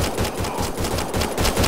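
Rapid automatic gunfire in the Mass Effect Andromeda video game on Habitat 7, a dense rhythmic burst of shots, loud and close, continuing without pause.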